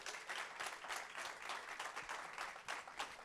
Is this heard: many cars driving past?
no